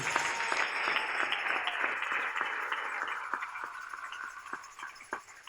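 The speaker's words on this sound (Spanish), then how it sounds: "Dele ese aplauso al Rey." A church congregation applauds during a sermon, the clapping fairly faint and distant, with individual claps standing out as the sound thins toward the end.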